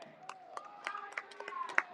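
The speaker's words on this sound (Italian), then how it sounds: "Ancora applausi dalla tribuna centrale per l'Accademia Trapani, sfinita" Scattered clapping from the central stand at an Italian promotion play-off football match between Accademia Trapani and Aspra in Sicily, irregular hand claps over a quiet crowd, with a commentator talking over it.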